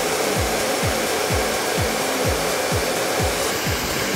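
A hair dryer blasts steady hot air onto rolled-up hair for volume curls, a loud continuous whoosh with a regular series of brief sweeping pulses as the nozzle moves back and forth close by.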